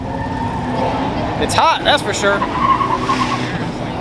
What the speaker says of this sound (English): They've already started drift racing.